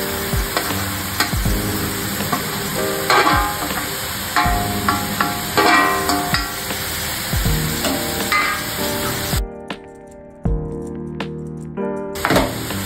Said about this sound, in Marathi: आता मी आपली कोळंबी त्याच्यामध्ये ॲड करते.